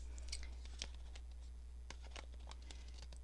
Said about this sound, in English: cut the excess off.